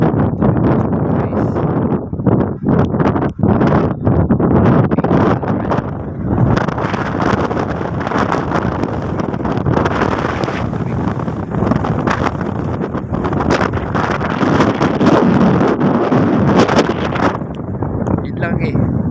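Strong, cold wind buffets and roars across the microphone continuously, loud and gusty throughout, at Andersen Park in Funabashi, Japan.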